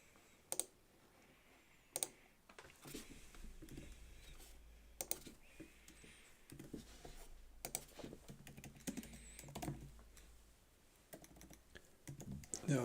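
Computer keyboard typing, close and clear, with irregular bursts of key clicks and a few sharper louder taps scattered through a quiet room, and no talking.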